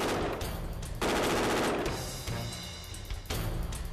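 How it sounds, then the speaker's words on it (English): Loud bursts of rapid fire come from a SIG-Sauer SIG516 AR-15 style rifle during a torture test. Several long strings of shots are separated by brief pauses. "An AR rifle that can fire thousands of rounds without cleaning."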